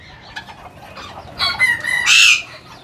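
Chickens on a rooftop terrace where hens brood, with a Serama rooster among them: soft scattered clucks build into a loud, close, rising crow near the end, no talking over it.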